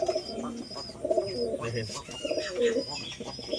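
Saharanpuri red pigeons coo in repeated soft, throaty phrases close by, with a male among them, under light background noise.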